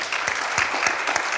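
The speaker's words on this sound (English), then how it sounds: "Let's give her a round of applause" Audience at a community conversation on race applauding, a brief steady patter of many hands clapping in a room.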